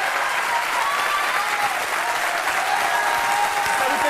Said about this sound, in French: il y a des années que je n'ai pas été applaudie comme ça